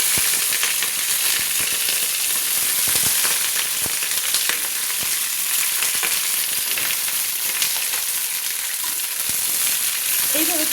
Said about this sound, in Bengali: সেই ছেঁকে নেওয়া ফুলকপিগুলোকে আমি দিয়ে দিচ্ছি সাদা তেলে। আমি ফুলকপিগুলোকে একটু সাদা তেলে ভেজে নেব,